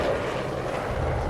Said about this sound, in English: Maybe that helicopter scared them all away.